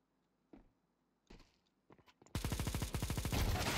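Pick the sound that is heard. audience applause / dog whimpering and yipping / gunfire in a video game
gunfire in a video game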